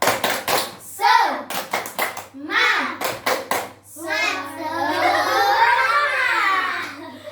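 Schoolchildren in a fifth-grade class perform a rhythmic clapping chant, sharp bursts of claps alternating with chanted voices, ending in a long stretch of kids shouting together.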